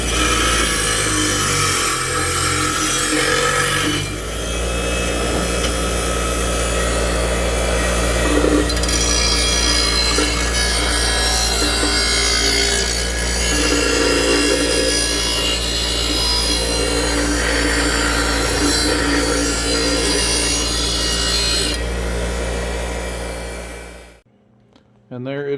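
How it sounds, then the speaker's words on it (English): A 1-horsepower Hercules 8-inch bench grinder grinds a blade pressed hard against the wheel, giving a loud, continuous abrasive rasp over the motor's hum. It runs steadily for most of the time, then winds down and cuts off near the end. "I'm really sticking that blade pretty hard against it, so it actually has quite a bit of power, especially on the grinding side."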